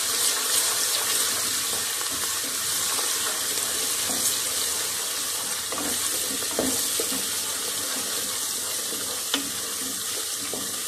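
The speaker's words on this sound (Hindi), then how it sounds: "हल्के से लाइट ब्राउन हो जाए थोड़ा सा पानी डालती हूँ।" Water splashing and sizzling in a frying pan of ghee with onions and ginger-garlic paste, a steady bright hiss with small crackles running throughout, close and fairly loud with no talk.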